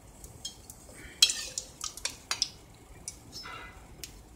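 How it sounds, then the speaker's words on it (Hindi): Satpura pastry fried in ghee over a very low flame and turned, heard as light scraping and clinking of a utensil against the pan with a soft sizzle underneath, in several small, irregular taps. "और एकदम धीमी आंच पे इसको तलते हैं।"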